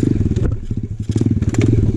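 An Apollo RFZ pit bike engine on a gnarly, technical dirt trail, heard up close as a loud, rapid, clattering putter that briefly dips and then picks back up.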